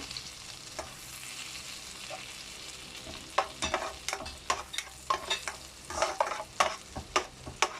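About a tablespoon of finely minced garlic fries in a pan, with a steady soft sizzle and frequent scraping spoon strokes that grow busier and louder toward the end.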